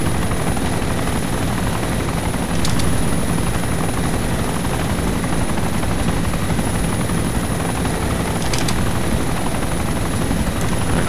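Helicopter from the DayZ Overpoch mod, its rotor and engine drone steady and loud throughout, a continuous dense roar with no talk over it.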